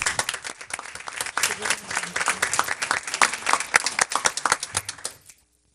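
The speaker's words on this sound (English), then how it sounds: "give them one more round of applause" Audience at a Livonia Public Schools Board of Education meeting claps in a lively round of distinct, crisp hand claps. It swells and then stops abruptly near the end, leaving silence.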